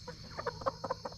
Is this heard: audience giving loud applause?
no